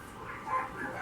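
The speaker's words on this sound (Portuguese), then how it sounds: "A cachorrada minha fora tá barulhenta" Several dogs barking outdoors at night, faint and distant, a few muffled barks and yips rising briefly in the middle.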